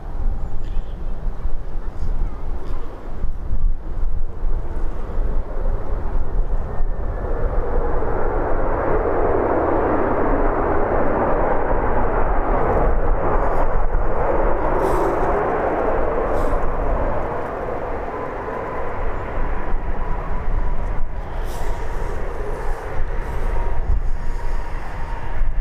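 An airliner landing at Birmingham airport in a crosswind gives a loud, continuous broadband jet roar that swells through the middle and slowly fades, with faint higher tones and scattered noise near the end.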